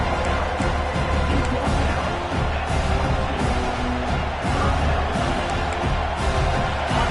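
Stadium crowd at a college football game on third down, a dense, steady roar of cheering voices filling the whole clip, loud and continuous with no clear breaks.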